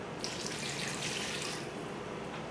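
Two cups of broth poured into a pot while making a whole-food vegan soup, a steady close liquid splash and gurgle running without a break, with no talking.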